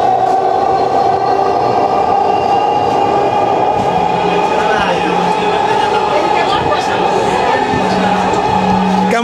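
A moving metro rail carriage, crowded with passengers, gives a steady, loud rumble and whine throughout, with murmuring voices of people talking in the busy car underneath.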